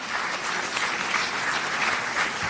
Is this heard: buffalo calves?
no